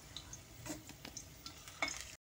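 Potato pieces frying golden-red in hot mustard oil in a pan for a Bengali mutton curry: soft, steady sizzle with scattered pops and a few stirring scrapes, quiet and close, no talking.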